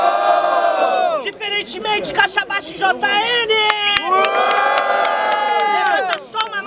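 At a student battle rap event in Brazil, the audience roars with shouts and cheers, the loud crowd noise rising and falling while a host shouts over it.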